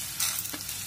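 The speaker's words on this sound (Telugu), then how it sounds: "శనగపప్పు, మినప్పప్పు, ఆవాలు వీటిని కూడా వేసుకొని మనం వేయించుకోవాలి." Chana dal, urad dal and mustard seeds frying in a pan, a brief close burst of crackling sizzle with a light stir.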